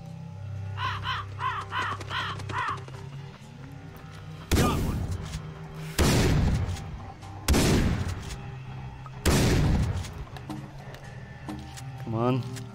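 Four heavy shotgun blasts boom out in Far Cry 3 at steady intervals, each loud and close with a long decaying tail, while crows caw beforehand and game sounds play underneath.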